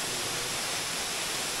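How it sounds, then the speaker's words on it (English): A waterfall seen from below on a bush walk to Trowutta Arch gives a steady, even broadband roar of falling water, continuous and unbroken with no voices over it. "So that's the waterfall there, we didn't see that one from the top."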